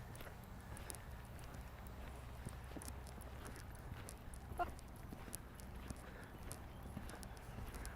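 A four-year-old horse's hooves clip-clop at a walking pace during training, a steady series of light taps over a low outdoor rumble, fairly quiet and somewhat distant.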